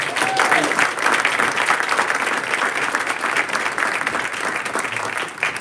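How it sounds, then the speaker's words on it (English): An audience at a Morris Plains council meeting claps for singers after their encore, a dense, even wash of applause that stays loud and unbroken from start to finish. "So one more round of applause."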